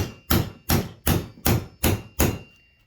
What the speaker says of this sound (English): So literally, hit that with a punch.